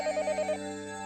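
In the Higurashi visual novel, a phone rings with rapid electronic trills in quick bursts that stop abruptly after about half a second, leaving a steady tonal hum underneath.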